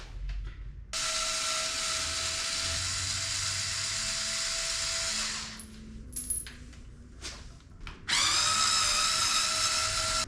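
A power driver loosens the corner bolts on a cover of a 2022 BMW S 1000 RR motorcycle. Its loud whine runs for about five seconds, then light clicks and handling follow, and a second sustained run comes at the end.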